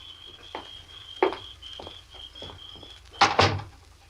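A house door being unlocked and opened, with a few soft knocks and clunks, then two louder close clatters of the handle and door near the end, with a faint steady tone behind and no talk.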